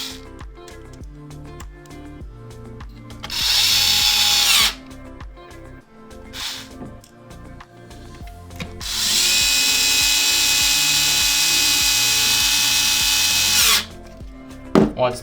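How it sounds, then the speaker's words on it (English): Small electric screwdriver driving gold screws into an Xbox One X power button board, two sustained whirring bursts with clicks and handling noise between, close up over steady background music. "I'm gonna screw the last 3 gold screws."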